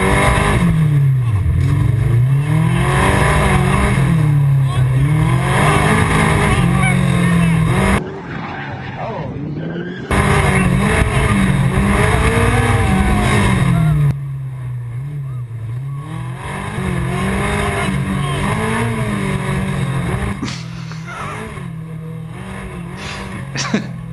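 An autocross race car runs a timed course, its engine rising and falling in repeated revving surges with tire squeal on the turns, loud and close throughout apart from a brief quieter gap partway through.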